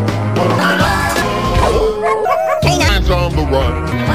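Cartoon dogs bark and yip over busy theme music in the intro of the animated series 101 Dalmatians, the barks mixed into a loud, dense musical backing throughout.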